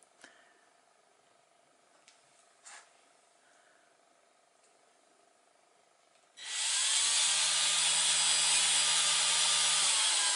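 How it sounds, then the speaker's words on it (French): After a few seconds of near silence with small knocks, a power drill starts up and runs steadily and loud, boring a shallow hole about 2 cm deep into the wooden mast of a toy boat. "tu fais un trou, pas très profond, enfin 2 cm par exemple"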